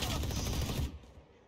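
Rapid bursts of gunfire in the tactical shooter Valorant, loud and dense for under a second, then cutting off into a quieter fading tail.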